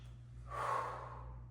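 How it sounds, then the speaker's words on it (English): Deep breathing during a home leg workout with no equipment: a single long, close, airy breath that swells and then tapers over a low steady hum, with no talking. "Deep breath in as you go down, breathing out as you come up."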